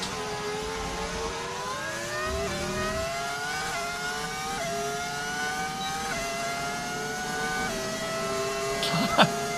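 Racing car engine in the F1 25 video game, fitted with an audio mod, whines steadily through rising upshift sweeps as it accelerates, loud and continuous, with a brief sharp knock near the end.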